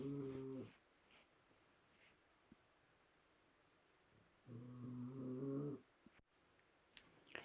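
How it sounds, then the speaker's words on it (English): A dog snoring in two long, droning breaths separated by quiet pauses, close and fairly soft, with a few small clicks in between. "you get the full strength of the snoring of my dog"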